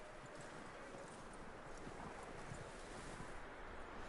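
Horse hooves clip-clop steadily in a PS4 video game, sitting low under a constant windy, rushing outdoor ambience.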